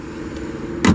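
A single heavy thump as the hood of a 2010 Chevrolet Tahoe LS slams shut near the end, over the steady low idle of the running engine.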